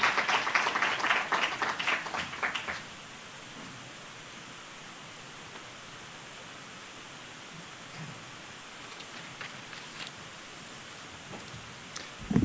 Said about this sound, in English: I think we need to give only a round of applause for a presentation